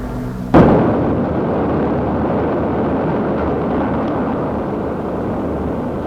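The atomic bomb detonating over Hiroshima in 1945 in an archival recording: a sudden sharp blast followed by a sustained, heavy rumbling roar that holds steady and loud to the end.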